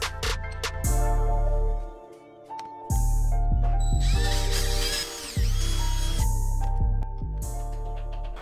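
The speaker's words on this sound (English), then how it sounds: "So we have to drill this out to a 3/8" A hand-held power drill revs up and bites into a metal footpeg mount held in a vise, drilling a hole out to 3/8 inch in several bursts, whining and grinding with pauses between, close and loud.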